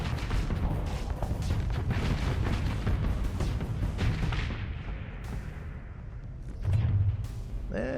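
Explosions in the space combat video game Starsector, modified with a graphics mod, pile up as a dense, rumbling barrage of booms that slowly thins out, followed by one more heavy low thud near the end.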